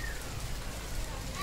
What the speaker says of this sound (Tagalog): Umuulan po kasi.